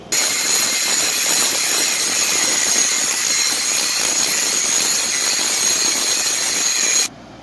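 An angle grinder grinding down weld on an old anvil during restoration, a loud, steady high-pitched whine and gritty scraping held for about seven seconds before cutting off abruptly.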